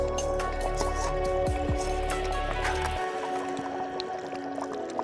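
Country chicken blood is poured into a simmering curry, giving wet squishing and dripping splashes up close. A low bubbling bed drops away midway.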